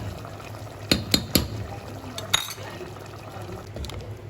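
Yogurt, garlic-ginger paste and white kadhai masala added to a cooking pan: a quick cluster of three close clinks and soft wet plops, then a single clink after a pause, over a low, steady background.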